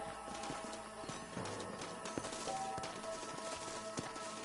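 Horse hooves in Red Dead Redemption clip-clopping in a loose, uneven rhythm at moderate distance, over a low ambient hum with scattered faint clatter.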